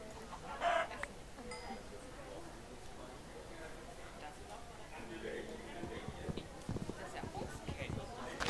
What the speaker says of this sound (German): Hühnchen.